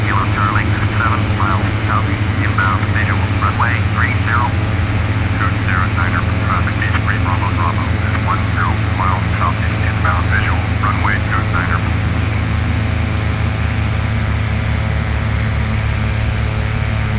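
A Piper Malibu PA46T Jetprop in the FSX flight simulator, its turbine engine droning steadily and loudly throughout with a high whine, while someone talks over it.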